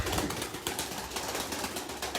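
Young grey smoky pigeons at a bird sale give soft cooing calls with occasional wing flutters, close and fairly quiet over a steady background hum.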